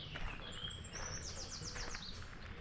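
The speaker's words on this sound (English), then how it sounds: "listening to all these beautiful bird sounds" Birds singing outdoors on a morning nature walk near a water treatment facility, with bright chirps and quick descending whistles repeating over a steady background hiss of open air.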